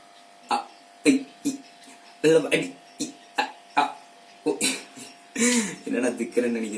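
A voice imitates a TV's sound breaking up from lost signal, singing a Tamil film song in choppy, stuttering bursts cut by short gaps, close and fairly loud.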